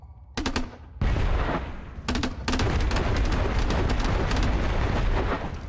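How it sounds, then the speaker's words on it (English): Shotgun blasts in a dinosaur-catching video game: four or five loud, close booming shots fired in a quick, uneven sequence, each with a short rumbling tail and no talk. "let's check out the shotgun we just built"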